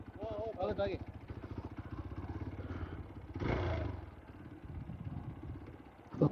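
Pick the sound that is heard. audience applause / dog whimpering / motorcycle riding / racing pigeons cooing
motorcycle riding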